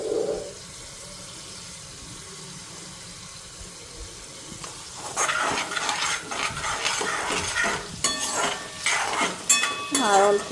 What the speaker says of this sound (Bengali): তো এদিকে আলুটাও হালকা ফ্রাই হয়ে গেছে